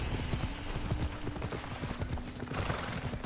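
Horse hooves in Assassin's Creed Odyssey clopping in a steady, stilted rhythm, loud and close over a constant outdoor bed, with a faint whinny-like tone running through.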